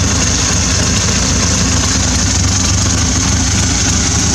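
A motorcycle engine idles steadily just after carburettor balancing, giving a loud, close, continuous low rumble with an even pulse and no pauses or talking.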